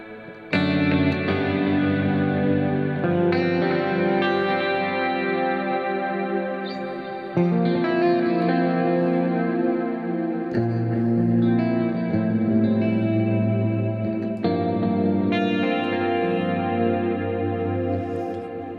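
Electric guitar chords through a Fractal VP4 multi-effects pedal ring out drenched in heavy reverb with the mix fully up, notes washing together into a continuous shimmering wash that swells with each new strum.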